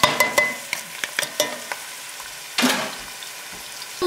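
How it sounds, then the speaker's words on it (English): Onions drop into hot oil for a quail korma, setting off a run of sharp clatters and crackling spits at the start. A loud burst of sizzling follows midway, close up with no voices. "The chef is picking up all the onions. In they go in hot oil."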